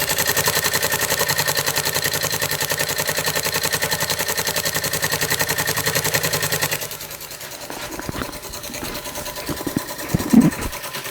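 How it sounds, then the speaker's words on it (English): An Ites Czechoslovakian model steam engine runs close by with a fast, steady mechanical chugging for several seconds, then the rhythm drops away into looser clicks and clanks. "I hope you've enjoyed this little video on this Ites Czechoslovakian model steam engine"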